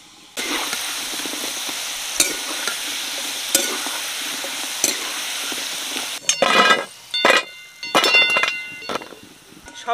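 Kotkoti, a sweet dough snack, deep-frying in hot oil: a continuous loud sizzle with occasional clinks, then bursts of stirring and scraping toward the end.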